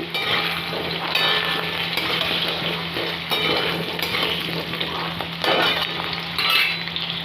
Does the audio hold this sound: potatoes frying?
yes